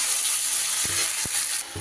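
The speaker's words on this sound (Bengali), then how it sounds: "আদা রসুনের কাঁচা গন্ধ যতক্ষণ না যাবে খুব ভালো করে কষিয়ে নেব।" Ginger-garlic paste with ground Kashmiri chilli, coriander and cumin fries in a pan with a steady, bright sizzle, broken by a few soft knocks as the spoon stirs it.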